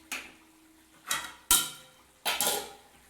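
A metal lid is set onto a cooking pot, which holds coriander chicken, after the stove is switched off, with four sharp clanks and clatters spread over a few seconds, close and fairly loud with no speech.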